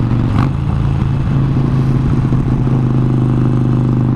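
Harley-Davidson 72 motorcycle engine idling steadily up close, a continuous low rumble with a brief burst of clatter near the start, no voices.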